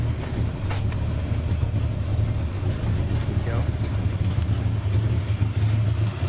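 A big truck engine stuck in 4-cylinder mode runs steadily close by with a low, uneven rumbling drone, and a voice is briefly heard over it.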